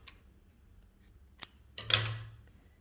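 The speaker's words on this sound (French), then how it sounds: "je vais passer les fils là et les couper" Scissors snip through crochet yarn while finishing a beginner's ruffled crochet top: a few faint ticks, then one louder, slightly drawn-out close cut near the end, alone with no talk.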